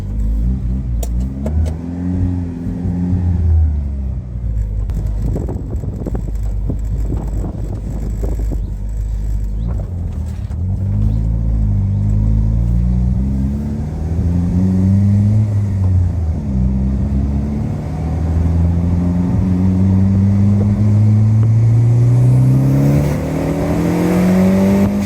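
A turbocharged Peugeot 106 GTI with a self-made engine map pulls hard on the road, its engine note rising through the gears in long, loud revving sweeps with steady road rumble underneath.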